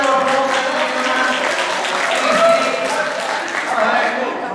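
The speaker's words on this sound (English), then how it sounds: "Give a round of applause" A crowd at a New Zealand sheep farm show gives sustained, dense applause, steady clapping that fills the space and carries on for several seconds while voices are heard alongside.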